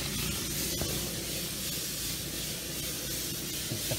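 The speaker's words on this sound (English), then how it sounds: "They'll spray that blue primer on there just to seal it" A paint sprayer applies blue primer to a stucco house wall, a loud, steady broadband hiss that continues unbroken throughout.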